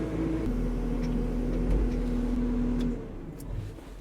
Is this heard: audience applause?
no